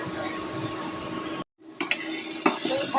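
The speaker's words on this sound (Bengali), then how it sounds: "এখানে একটু মশলা কষায় নিতেছি।" Spices sautéed in a pan for a meat curry, with steady sizzling, then a short pause followed by stirring scrapes and clinks of a utensil against the pan.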